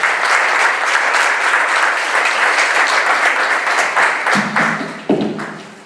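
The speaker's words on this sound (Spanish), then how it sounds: "Un aplauso." An audience at an evening church conference in Monclova applauds, a loud, full, sustained clatter of many hands that tapers off with a few last claps and a faint voice.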